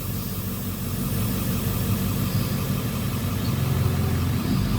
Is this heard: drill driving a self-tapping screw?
no